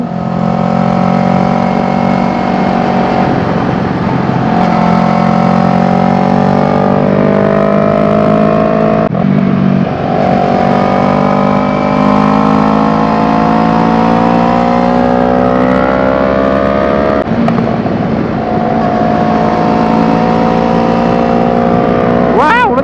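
A Yamaha R3 motorcycle engine revs loud and close while riding mountain curves, its pitch rising and falling through the gears with brief dips at each shift, steady and continuous throughout.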